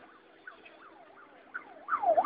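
A wailing ambulance siren rises and falls steadily at a distance in Aleppo, Syria, growing louder toward the end.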